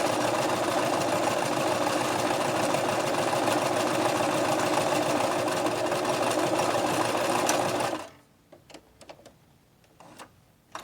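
A sewing machine runs a zigzag stitch in a steady, fast mechanical whir for about eight seconds, then stops, leaving a few faint clicks and handling sounds.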